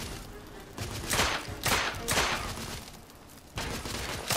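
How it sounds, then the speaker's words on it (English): Bursts of gunfire from a Victorian-era shooter, The Order: 1886, arriving in loud broadband volleys separated by brief gaps, with faint background game ambience between shots. "How about you quit shooting?"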